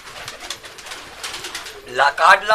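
Madras pigeons coo and flutter close by, a soft murmur of birds that swells into louder, throaty calls near the end.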